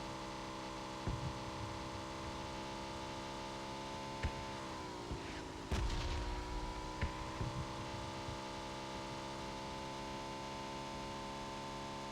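A motorcycle engine in PUBG Mobile drones steadily throughout, a constant tonal hum that swells briefly midway as if revving or passing, with a few faint thumps scattered over it.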